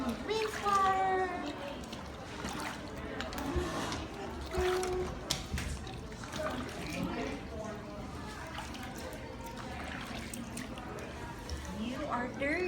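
Rinse water splashes and dribbles while someone is being washed, with a voice and other talk running over it throughout.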